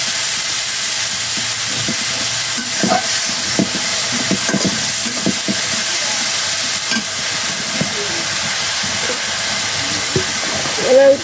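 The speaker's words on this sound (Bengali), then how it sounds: "একটু হলুদ মরিচ দিয়ে দিব দিয়ে একটু ভাজা ভাজা করে তারপরে হলো পানি দিব" Ginger with turmeric and chili fries in a pan, a loud, steady, hissing sizzle throughout, with intermittent spatula scrapes and knocks against the pan close by.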